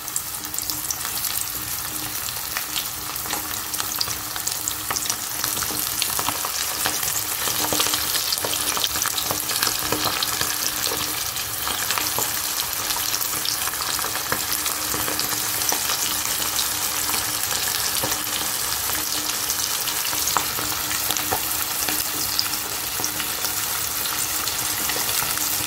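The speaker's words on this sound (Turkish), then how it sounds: "Şimdi sıra geldi kızartma işlemine." Chicken wings crackle and sizzle steadily in a hot pan of oil, a dense, continuous frying hiss that holds close and loud with no talking throughout.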